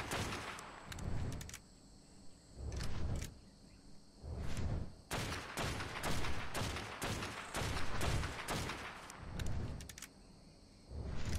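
Rapid bursts of gunfire aimed at a creature in Ark Survival Evolved on Xbox One, a boss fight with the Broodmother, come in loud repeated volleys separated by short pauses, with no talking.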